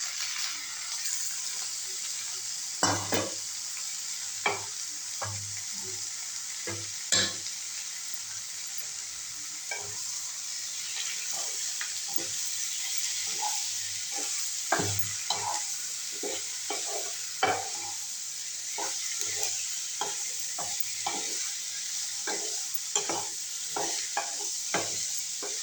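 Chicken curry with ground masala frying in a pan, a steady hiss of sizzling broken by repeated scraping and knocking stirs at irregular intervals, close up and alone.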